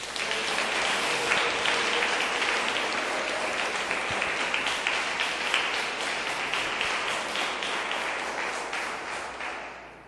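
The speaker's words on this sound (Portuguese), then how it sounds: "Dá uma salva de palmas para Jesus." Sustained audience applause at a Brazilian evangelical church event, a dense, steady wash of many hands clapping for the full stretch, slowly thinning toward the end.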